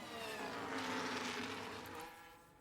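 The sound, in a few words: race car engine in F1 Manager 2023 video game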